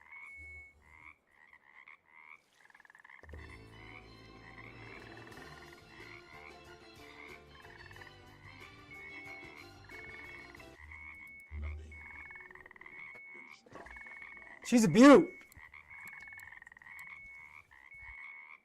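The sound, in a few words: frogs croaking in the video game Russian Fishing 4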